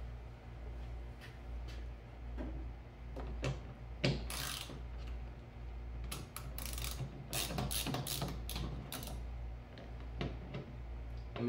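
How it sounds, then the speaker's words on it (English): A 3/8 ratchet with an extension and a 10 mm socket loosens bolts on a 1996-2004 Nissan Pathfinder rear hatch, giving quiet, close clicking ratchet bursts in irregular runs with pauses between them. "I'm gonna be going with a 3/8 ratchet, with a 3/8 extension, and a 10 millimeter socket"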